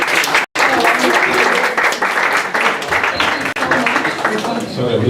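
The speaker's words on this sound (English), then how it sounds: "Let's give a round of applause." A school audience gives a loud round of applause, dense continuous clapping with a brief dropout near the start, carrying on steadily to the end with faint voices underneath.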